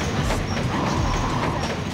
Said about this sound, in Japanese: ここが切り替わってお化け列車出てくるじゃん。